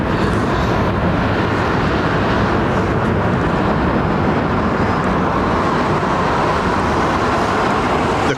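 Qantas Airbus A380 arriving on runway 27R at London Heathrow, a steady loud broadband jet roar holding through the whole stretch without a break, with no distinct peak or fade.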